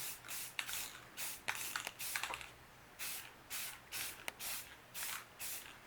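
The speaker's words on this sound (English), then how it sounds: "So just light sprays, kind of taking your finger on and off the trigger as you spray it." Short bursts of aerosol spray hiss in a steady on-off rhythm, light coats on a mug, about nine quick puffs close by with brief pauses between.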